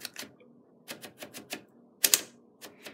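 Typewriter platen knob twisted outward to feed paper, a run of close ratcheting clicks in uneven bursts with a louder double click near the end, alone without talk.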